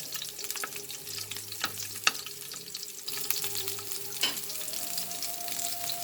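Garlic frying in hot oil in a pan for a Filipino vegetable dish, a steady close sizzle with light stirring clinks and scrapes, no talking.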